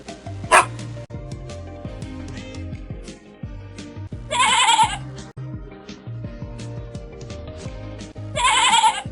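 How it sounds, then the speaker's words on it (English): A goat bleats loudly twice, several seconds apart, over continuous background music. "This is a goat."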